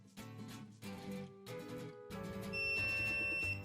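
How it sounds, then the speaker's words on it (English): An ECMID search toolkit for a motorbike ECM gives electronic beep notification tones: short pulsed bursts, then a sustained high steady beep near the end, fairly loud with no talk. "the toolkit will automatically notify with sound, beep, and LED light flash"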